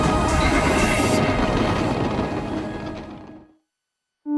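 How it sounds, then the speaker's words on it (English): A train rumbles through a tunnel beneath a construction site, a loud, dense roar that fades away over about three seconds into silence before another sound starts abruptly at the end. "while the train below keeps running round the clock"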